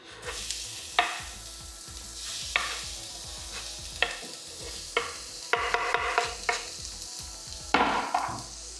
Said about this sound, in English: so now that my pan is hot, I put on the oil. Start by putting in my vegetables.